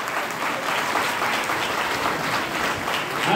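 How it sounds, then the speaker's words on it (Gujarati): An audience at a community gathering and notebook distribution event in Navsari claps steadily, a dense, sustained applause from many hands with a slight swell near the end. "ખૂબ જ જોરથી તાળી પાડીને આપણે સ્વાગત કરવું જોઈએ"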